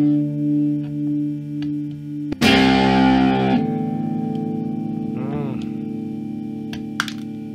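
Electric guitar played through an effects pedal with distortion into a small amp: a sustained drone, then a loud distorted strummed burst midway, a ringing tail and a short bend, with occasional talk over it.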